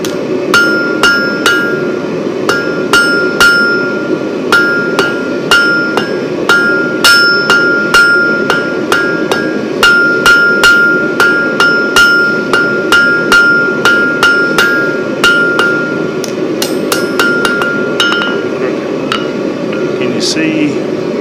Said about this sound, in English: this left-handed hammering is a little tough